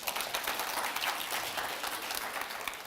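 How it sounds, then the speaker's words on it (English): Applause from a summit audience, a soft, somewhat distant patter of many hands clapping that carries evenly through about three seconds with no talking over it. "Give them a round of applause."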